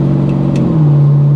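A 1966 Ford Fairlane GTA with a 390 V8 and automatic gearbox revs hard as it is shifted like a manual, the engine note dropping and settling into a steady drone, close and loud.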